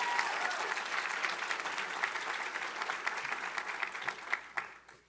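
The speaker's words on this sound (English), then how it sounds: "please give her a round of applause" Audience applause at a State of the County address, a dense, steady crowd clapping that carries through and tapers off sharply at the end.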